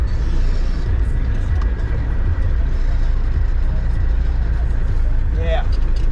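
A cabover semi truck rolls along with a loud, steady engine drone and road rumble from inside the cab, a brief squeal rising near the end, while someone talks over the noise.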